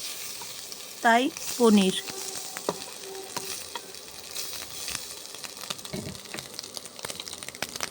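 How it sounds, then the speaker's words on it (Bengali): A paneer sandwich frying in a pan gives a steady broadband sizzle throughout, with a brief voice speaking early on and a few clinks and stirring knocks scattered through it. "পনির স্যান্ডউইচ ফ্রাই করে নিচ্ছি"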